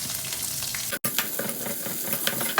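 Onion and green chillies hit hot oil with mustard seeds, fenugreek, cumin and curry leaves for a fish curry, giving a loud, close, continuous sizzle with a momentary break as they drop into the pan.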